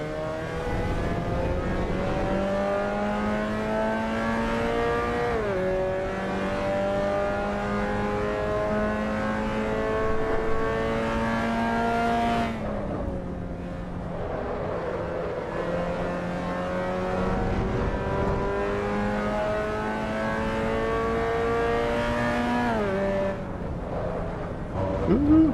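A race car engine in Assetto Corsa EVO holds a steady high drone, then drops pitch with repeated downshifts and climbs again, loud and continuous throughout, with a voice talking over it.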